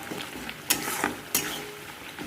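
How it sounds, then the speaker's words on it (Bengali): Onion and garlic frying in a pan, with tomato, while being stirred: a soft sizzle with a few sharp scraping strokes of a utensil against the pan at intervals. "এই যে পেঁয়াজ রসুনটাকে এখন কষাচ্ছি, দেখো পেঁয়াজ রসুনটা কষাচ্ছি"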